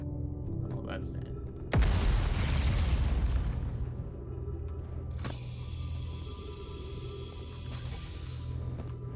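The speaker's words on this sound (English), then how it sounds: "Explosions." Explosions in the video game Outer Wilds: a sudden loud boom bursts in near the two-second mark and rumbles on, with a later swell and high whining tones over a steady game ambience.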